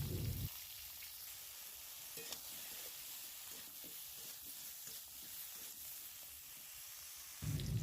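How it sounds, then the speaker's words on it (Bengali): Eggplant frying in oil in a wok makes a soft, even crackle and sizzle that stays low and fairly distant, with a louder hissing burst at each end. "বেগুনটাও আমার ভাজা হয়ে গেছে, এবার এটাকেও আমি তুলে নেব।"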